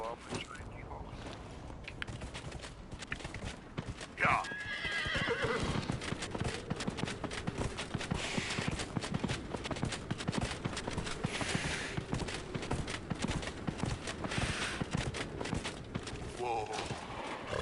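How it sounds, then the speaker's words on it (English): A horse in the video game Dragon Age Inquisition whinnies sharply and then clip-clops along at a steady walking rhythm, hoofbeats clear and continuous over game ambience, with someone speaking briefly. "There you are, my training horse."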